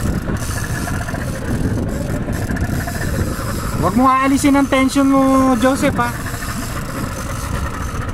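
A steady low boat engine idle drones throughout, with a voice speaking over it midway.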